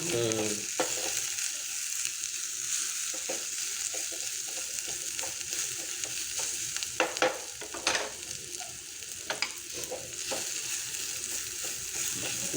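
Chopped onions frying in oil after asafoetida is added for a pea kulambu, a steady close sizzle with scattered stirring scrapes and clicks running throughout.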